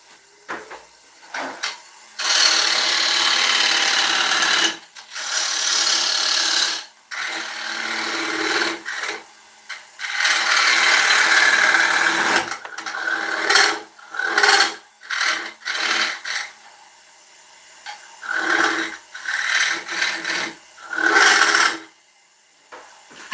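A woodturning lathe cuts a tenon on an oak bowl, producing loud, rasping scrapes in long sustained stretches that break into shorter choppy bursts, separated by brief quiet gaps.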